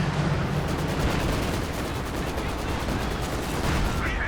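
A Maxim machine gun in the video game Company of Heroes 2 rattles off a long, unbroken stream of rapid shots at an even pace, steady and fairly loud from start to finish.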